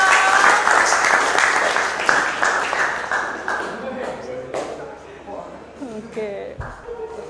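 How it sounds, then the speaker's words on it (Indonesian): Students in an Indonesian classroom clap their hands, a burst of rhythmic clapping that fades out as a teacher's voice takes over toward the end. "tepuk tangan untuk Rizky dong"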